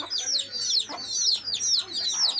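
A hen clucks close by in a rapid run of sharp, agitated calls, rising and falling in quick bursts with no talking over it.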